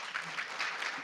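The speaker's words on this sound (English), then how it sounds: "Give them a round of applause again." A brief burst of audience applause at an opening ceremony gives a short patch of soft, even clapping.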